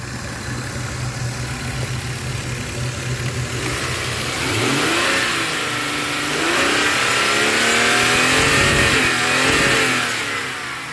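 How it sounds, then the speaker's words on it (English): Lexus GS inline-six engine revving on a test drive, a steady idle hum that rises into two smooth swelling revs, loud and close with no talking. "Very smooth engine."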